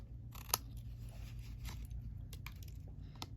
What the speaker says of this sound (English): I'm just going to take my paper snips